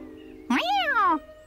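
A single drawn-out cartoon cat meow from a children's animated TV show, close and clear, rising then falling in pitch, with a faint steady hum underneath.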